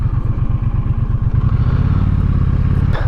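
Wind roars past a rider on a Triumph T120 motorcycle at 70 mph with no windshield, a dense close rush over the steady low pulsing drone of the engine, with no speech.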